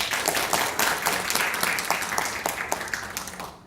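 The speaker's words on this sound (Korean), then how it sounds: "박수로 모시겠습니다." A crowd at an industry microbiome forum applauds to welcome a presenter, a dense burst of clapping from many people that holds steady, then gradually thins and fades toward the end.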